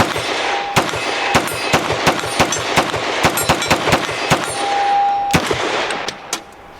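Rapid pistol shots from a Nomad Defense G26X, about fifteen sharp, close cracks in uneven bursts with brief pauses, plus a faint electronic tone in between.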